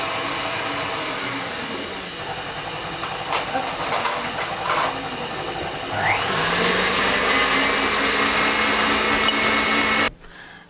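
An electric mixer whips egg whites to stiff peaks with a loud, steady whirring drone that climbs in speed about midway, then cuts off abruptly just before the end.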